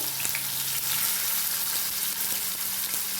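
Chopped tomato and carrot frying in a pan, a steady close sizzle with faint stirring taps underneath and no talking.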